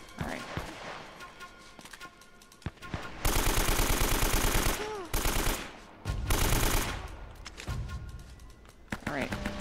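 Gunfire in Uncharted: Drake's Fortune, long bursts of loud automatic fire mixed with scattered single shots and pauses between, with a player talking over parts of it.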